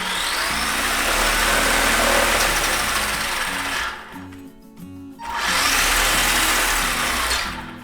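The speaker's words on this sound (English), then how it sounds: "this is just a brushed standard LRP motor" Brushed LRP electric motor in a Tamiya DF-02 Rising Storm 1/10 4WD RC buggy whines loudly and steadily, briefly easing off near the middle before spinning back up to a sustained high-pitched drone.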